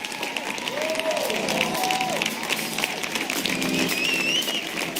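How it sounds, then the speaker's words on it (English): Crowd applause and cheering for a speaker's standing ovation fill the space, steady and broad, with a few whoops and voices rising above the clapping. "give a big round of applause"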